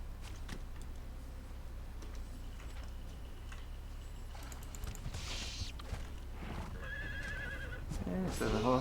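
Horses whinny and neigh during combat in the video game Conan Exiles, the calls mixed with clattering game effects and a voice talking over them, growing louder toward the end.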